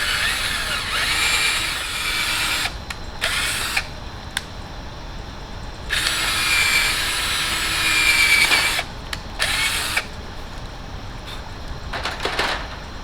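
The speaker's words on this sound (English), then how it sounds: "I do want to drill the holes" A power drill bores holes through a cork mount in bursts of high whining, the bursts starting and stopping repeatedly between short pauses, close and fairly loud.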